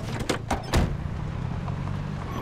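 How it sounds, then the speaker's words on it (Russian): A door closes in the zombie survival game Project Zomboid, a few quick knocks followed by a heavier thunk, with a low vehicle-like hum continuing beneath. "Закрыть дверь."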